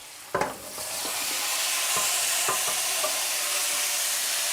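Aubergines frying in oil in a pan for ratatouille, with a couple of sharp clatters of the pan at the start and then a steady, loud sizzle alone.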